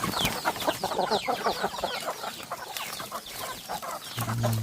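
Chickens clucking steadily and fairly close on a village plot, a busy overlapping flock chatter with no voices.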